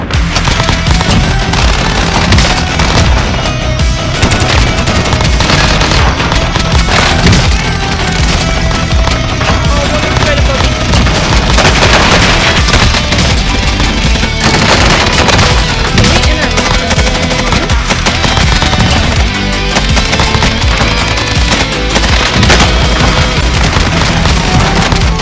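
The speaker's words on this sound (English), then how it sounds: "All four of them are shooting at me." Dense, continuous gunfire from several attackers in Call of Duty Warzone, with loud rapid automatic bursts and booms overlapping without pause throughout.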